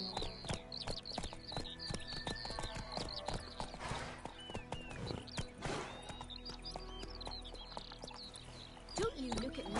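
Horse hooves galloping in The Witcher 3 with a steady rapid clip-clop, a neigh or whinny, and birds chirping around, all under someone talking over the game sounds.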